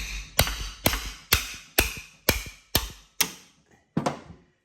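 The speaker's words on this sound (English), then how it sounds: "Just give it a good smack with a big hammer." A big hammer smacks a stubby wrench fitted on a Harley-Davidson shock absorber in a home garage: eight sharp metallic blows at a steady, unhurried rhythm, close and loud, each ringing briefly before the next strike.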